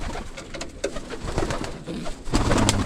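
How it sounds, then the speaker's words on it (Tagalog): Pigeons coo nearby in soft, low, rolling calls, overlapping with light rustling and flutter in the background. "gusto ang mga kalapati ni Rambo"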